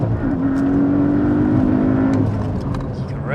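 A hybrid-turbo, methanol-injected Porsche 718 Cayman pulls hard under acceleration, a steady rising engine tone with boost building across the revs, heard from inside the car with a constant loud drone.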